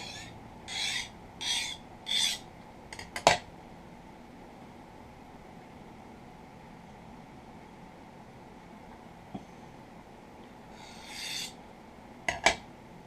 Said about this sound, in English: I'm going to cut that burr off of there. Both sides.